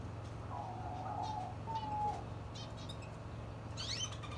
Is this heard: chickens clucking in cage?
no